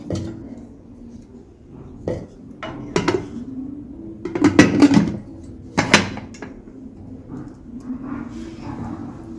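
A pressure cooker lid is fitted onto a pot of lentils, with several close metallic clanks and knocks, the loudest cluster in the middle, amid quieter kitchen handling and no talk.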